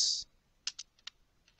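Light keystrokes tap on a computer keyboard as a command is typed at a Windows Server 2008 command prompt, a few quick, close clicks following a short burst of hiss.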